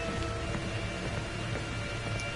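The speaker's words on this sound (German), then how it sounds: "Okay, es regnet scheinbar Blut." A steady downpour of blood rain falls in the horror video game Outlast 2, making a continuous, even hiss of rain with no talking.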